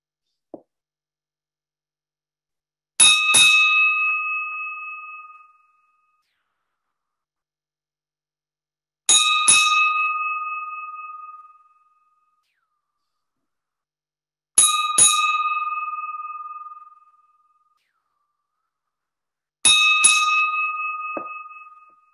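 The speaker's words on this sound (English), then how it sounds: "So, in the sailor's tradition, I'm going to ring 8 bells for Charles Yingling." A ship's bell rung eight times in sailor's tradition at a memorial: four evenly spaced pairs of loud, bright metallic strikes, each pair ringing out and decaying before the next, with silence otherwise.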